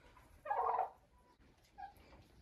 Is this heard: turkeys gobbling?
yes